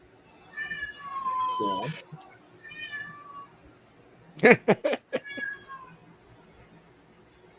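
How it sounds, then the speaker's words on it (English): A pet cat that wants to go outside meows several times, loud and close, with drawn-out, wavering cries in the first half. Brief talk and a cluster of sharp knocks follow. "you guys hear my cat?"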